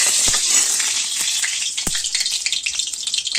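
Oil sizzles steadily in a kadai, a loud continuous hiss with scattered sharp pops and crackles throughout, close and alone with no voices.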